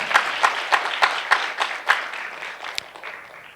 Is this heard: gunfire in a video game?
no